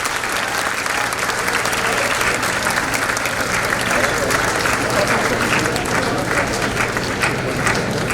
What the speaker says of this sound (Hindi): थोड़ी और जोरदार तालियों के साथ में स्वागत कीजिए।